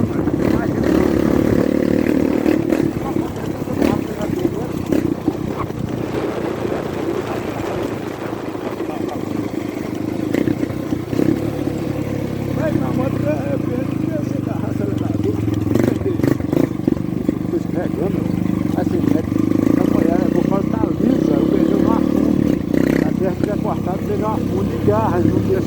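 Motorcycle engine revving hard and accelerating repeatedly on a dirt road, throwing up soil, loud and continuous close by throughout with people talking over it.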